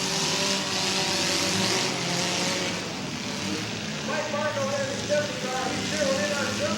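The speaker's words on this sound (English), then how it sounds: "A near miss there as the 169 car of Jordan Roly-Poly Perez narrowly misses" A demolition derby car engine revs hard at a 2005 derby, loud and continuous with rising roars and a tire squeal, while an announcer talks over it.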